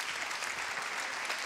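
A live audience at a radio talk show claps steadily, a dense wash of many hands, moderately loud and even throughout with no voices on top.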